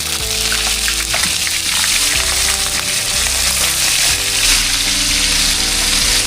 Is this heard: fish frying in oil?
yes